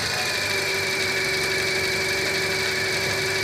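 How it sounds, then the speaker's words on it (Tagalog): A Toyota Vios engine idles steadily nearby with a constant high-pitched electrical whine from a faulty alternator riding over the low rumble. "Nagkaroon ng ingay yung dayon."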